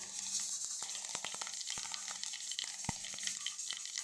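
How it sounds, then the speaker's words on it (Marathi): Dense, steady sizzle of cumin and mustard seeds crackling in hot oil, with scattered sharp pops and small clicks throughout, no voices. "जिरे पण छान तडतडले"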